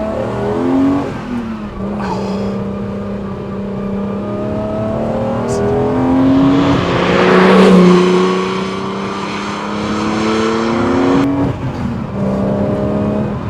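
A BMW M1 engine pulls hard under full-throttle acceleration, loud and close from inside the car, revving up through several rising sweeps with brief dips at each gear change.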